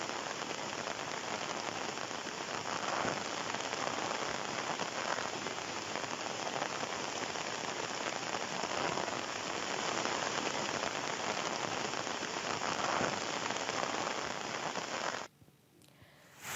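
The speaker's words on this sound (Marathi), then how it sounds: "तर तिकडे कोल्हापूरमध्ये सुद्धा पन्हाळा गडावर जोरदार पावसानं हजेरी लावली" Heavy monsoon rain pours down on Panhala fort in Kolhapur, Maharashtra, a dense, steady roar of drops on surfaces that holds evenly and then cuts off abruptly near the end.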